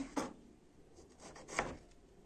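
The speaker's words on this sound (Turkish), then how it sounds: "Bu çilekleri böyle ince ince doğruyoruz." A knife thinly slices strawberries for a cake. Two soft, close cuts land about a second and a half apart, faint and quiet, with no talk.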